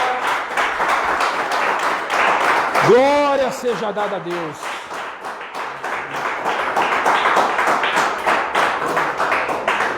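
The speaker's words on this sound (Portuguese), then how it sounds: "uma salva de palmas para o Senhor" Congregation applause at a church service, a steady patter of many hands clapping that runs throughout, with someone speaking and briefly singing over it partway through.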